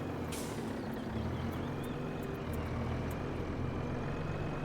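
A truck in Farming Simulator rumbles steadily at close range, with a hiss of air brakes near the start and a thin high tone running through the engine drone.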